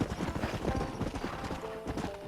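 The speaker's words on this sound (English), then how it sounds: "A war horse." Rapid, close clip-clopping hooves of a war horse in the Red Dead Redemption game, a steady rhythmic trot with a brief whinny-like tone near the end.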